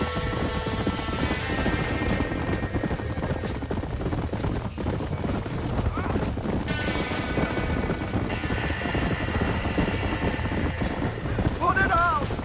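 Panicked horses in a burning barn in Red Dead Redemption stamp and clatter their hooves continuously, with repeated shrill neighs and whinnies rising over the din, alongside crashing noises and shouting voices.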